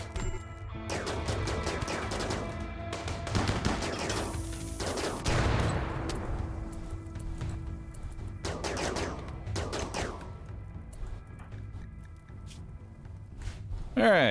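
Rapid bursts of gunfire and an explosive blast ring out in a RimWorld battle, crackling volleys spread across the clip amid steady game ambience, with a voice talking over parts of it.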